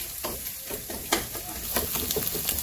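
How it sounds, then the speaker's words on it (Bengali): Onions and eggs fry in a pan for fried rice made with cold leftover rice, a close continuous sizzle broken by repeated scraping stirs of a spatula, with no talk over it. "এই জায়গায় প্রথমে পেঁয়াজ ভেজে নিচ্ছি, তারপরে যে ডিম দিয়ে দিচ্ছি, ডিমগুলো ভেজে নিতেছি"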